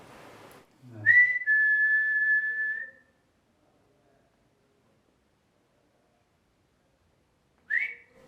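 A clear, sustained whistle rings out for about two seconds inside a courtroom after a brief rustle, then silence, followed by a short second whistle in the distance.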